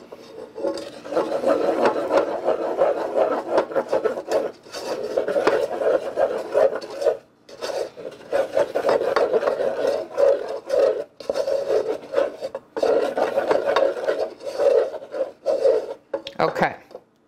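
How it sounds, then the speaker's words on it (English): A wooden spoon scrapes and stirs protein jello powder around the edges of a pot, making steady rasping, rubbing strokes in repeated bursts with brief pauses, fairly close and clear. "I'll do a wooden spoon here, because I got the powder on these edges here that the whisk isn't getting."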